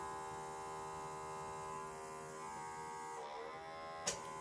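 An ultrasonic skin scrubber with a water suction hose runs with a steady electric buzz and hum, close and fairly quiet, ending with a short sharp click.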